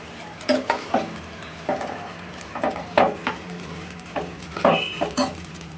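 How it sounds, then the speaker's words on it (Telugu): Vermicelli for semiya payasam frying in a bowl while being stirred, intermittent close scraping and clinking strokes in an irregular rhythm over a soft sizzle. "వేసుకొని కొంచెం బ్రౌన్ కలర్ వచ్చేదాకా ఫ్రై చేసుకుందాం"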